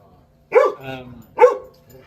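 A nearby dog barks twice, loud and sharp, with a softer whining tone between the two barks in an otherwise quiet space.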